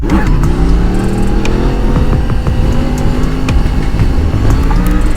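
A Yamaha MT10 motorcycle engine accelerates hard in third gear, a loud, close, continuous roar that rises in pitch without a break.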